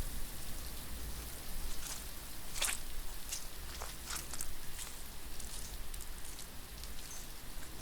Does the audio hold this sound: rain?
yes